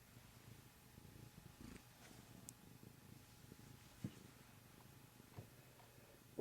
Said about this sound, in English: The cat says goodbye.